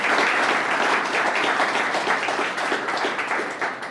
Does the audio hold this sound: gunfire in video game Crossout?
no